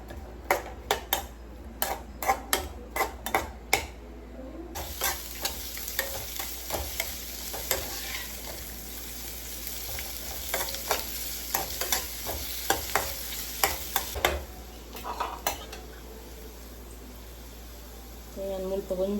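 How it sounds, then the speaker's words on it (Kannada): Onion fries in a pan as a spoon stirs it, with repeated sharp scraping clinks against the pan over a soft sizzle, close and fairly loud, while a person talks at times. "ಒಂಜಿ ನೀರುಳ್ಳಿ ಸ್ವಲ್ಪ ಫ್ರೈ ಮಾಡ್ಕೊಡು"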